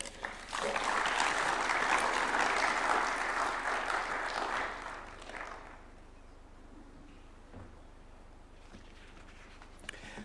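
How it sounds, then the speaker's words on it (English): An audience at a State House New Year event in Nairobi applauds after a United Nations official's speech. The clapping is loud and sustained for about five seconds, then fades to quiet room tone. "Another round of applause for Zainab."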